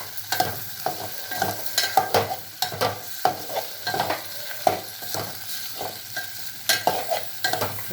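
Okra stir-fried in a hot pan for a Telugu-style okra sambar, sizzling steadily with frequent scraping stirs and clinks of a spatula, close and moderately loud with no talking.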